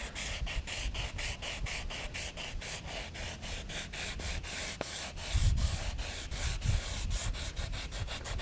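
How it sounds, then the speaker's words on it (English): A boat's gel coat repair patch is sanded by hand with rapid, even back-and-forth rubbing strokes, close up and steady throughout. "I'm trying to just sand off some of my earth tone here"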